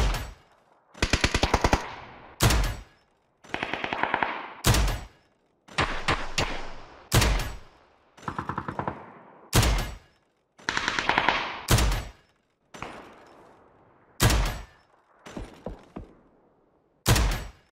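Automatic gunfire rings out in the PUBG training sound aiming lab, loud bursts of rapid shots in a repeating pattern separated by short silences, a dozen or so volleys with no talk.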